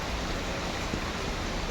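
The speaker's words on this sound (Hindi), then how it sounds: "बारिश हो रही है मॉर्निंग से।" Steady morning rain falls on an empty residential lane, a dense, even hiss of drops on rooftops and pavement with no breaks.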